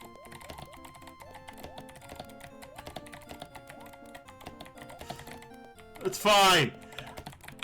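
Loud computer keyboard typing while playing Mario Teaches Typing: rapid, close clicking keystrokes run throughout, with someone talking over them and a sudden loud vocal outburst near the end.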